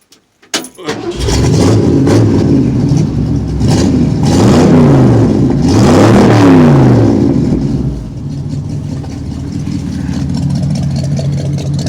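A 1975 Ford F100 pickup with a 302 V8 and true dual Cherry Bomb exhausts cranks and fires, then revs loudly in rising and falling surges before settling into a lumpy, loping idle, heard up close.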